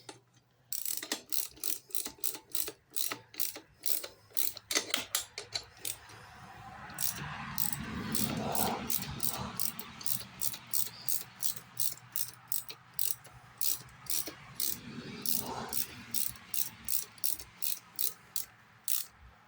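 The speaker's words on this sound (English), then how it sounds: "Get the ratchet on there." A ratchet wrench clicks in quick bursts of short, sharp strokes as it tightens a bolt on a lawn mower, heard close and alone, with pauses and a duller scraping sound between the runs of clicks.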